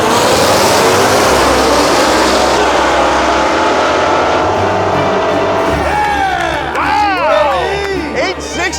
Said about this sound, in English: Oh yeah, that sounds way better with the exhaust and intake.